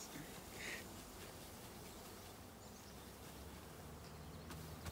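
A dense mass of honeybees hums steadily in a hive, with a low continuous drone heard close up and fairly quiet, without any talk.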